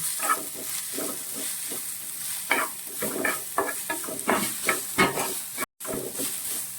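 Carrot, beetroot and tomato being sautéed for a sandwich filling crackle steadily in a pan, punctuated by repeated spatula scrapes and stirs, close by, with a momentary drop-out near the end.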